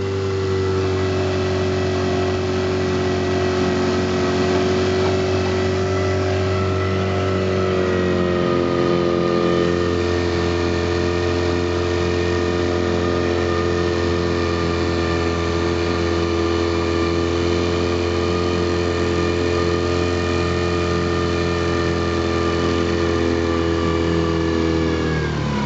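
A 1933 Johnson A-65 4.1hp alternate-firing outboard motor runs steadily, a buzzing mid-pitched drone that shifts down in speed partway through and holds there.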